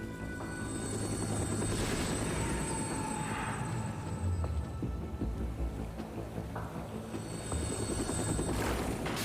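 A video game helicopter flies a covert assault run toward an offshore stronghold, its heavy rotor thrum and turbine whine loud and continuous throughout, with rumbling low end and no voices.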